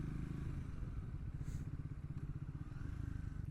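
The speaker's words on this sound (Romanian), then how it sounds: "s-a topit benzina din motocicletă, habar n-am, că tot mi se pare că merge un pic îngâtuit" Triumph Speed 400 motorcycle engine runs in a steady close pulsing thrum that sounds slightly choked and held back, with faint clatter over it.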